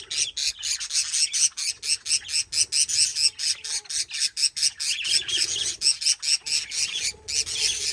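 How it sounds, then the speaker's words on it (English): A budgie chatters nonstop in rapid, high-pitched chirps and squawks, close by and fairly loud, with no speech. "This little budgie's got a lot to say."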